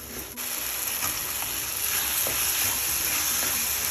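A paneer gravy base is sautéed and stirred in a pan, a dense continuous sizzle with soft scraping of the spoon, close and steady throughout.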